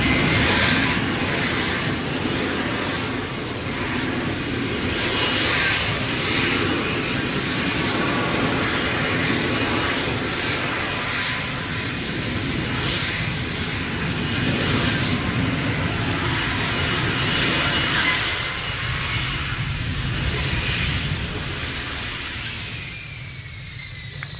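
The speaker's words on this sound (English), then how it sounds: "What a great aircraft." A fixed-wing aircraft roaring loudly overhead at the Midlands Air Show at Ragley Hall, its engine drone sustained and fluctuating for over twenty seconds before easing off slightly at the end.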